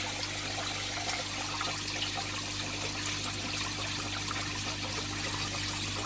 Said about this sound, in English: I'll squirt them on top of that sponge filter as well